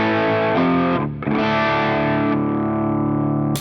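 Dark overdriven electric guitar through a Naomi Ultimate Drive, a $17 OCD clone pedal, with sustained distorted chords ringing out, a brief dip, then a long held chord, loud and alone.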